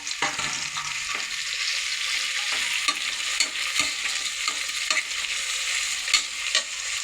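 Tomato and village-style pulao ingredients fry in oil with a steady close sizzle. Rhythmic scraping knocks from stirring come every half second or so, and no voices are heard.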